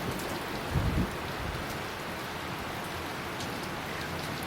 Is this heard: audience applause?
no